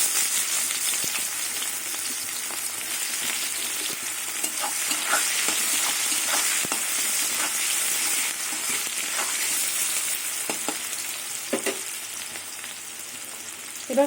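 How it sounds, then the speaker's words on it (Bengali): Chopped onion sizzles in hot oil with crushed black cumin, a continuous moderate frying hiss broken by stirring clicks and scrapes, with no talking. "এবার কুচনো পেঁয়াজ দিয়ে দেবো।"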